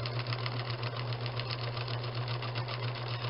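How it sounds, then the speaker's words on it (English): A sewing machine at least 35 years old stitches a velvet jewelry pouch, running with a steady, continuous mechanical hum and rapid regular needle clatter, close and alone. "I like using all the bits on my sewing machine."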